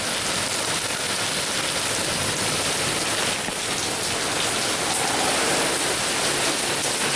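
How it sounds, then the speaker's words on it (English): Hard rain with some hail drums steadily on a truck, a loud, unbroken wash of close pattering that holds level throughout with no talking. "It's like a little hail mixed in."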